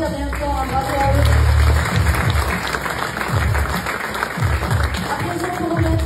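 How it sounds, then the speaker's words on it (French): An audience at an evening local-business awards ceremony applauds loudly and steadily for several seconds, the dense clapping filling the hall with no voices heard over it. "vous pouvez les applaudir bien fort, bravo à eux."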